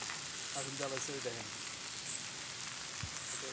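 Food frying in a pan at a night campsite in the jungle, a faint, continuous sizzle with small crackles, while a voice talks briefly near the start.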